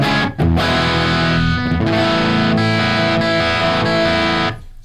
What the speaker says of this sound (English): the amp's still pushed into distortion